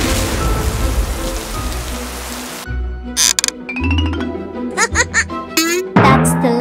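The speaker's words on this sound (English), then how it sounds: "Oh my god, it's raining!" Cartoon rain pours down as a dense, steady hiss for a few seconds, then cuts off abruptly and gives way to squeaky, chirping cartoon vocal sounds.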